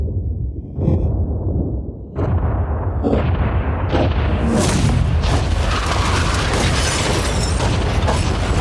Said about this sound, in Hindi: उड़ा दो।